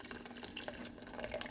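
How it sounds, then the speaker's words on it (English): Boiling water splashes and trickles steadily as it drains from a canning pot tipped with tongs while canning carrots, a soft, close, continuous pouring sound without talking. "You just want to drain the water out, but you don't want the water to come back up these tongs and get you because it's boiling."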